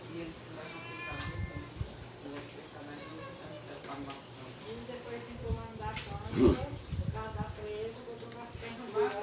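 A cat on a farm meowing repeatedly, the calls rising and falling over a steady background hum, with people talking nearby throughout.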